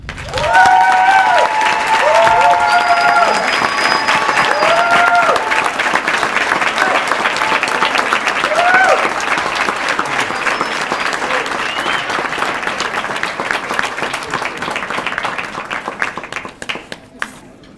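Audience at an award presentation breaks into loud sustained applause for the honoree, dense clapping with some cheering and whoops near the start, tapering off toward the end.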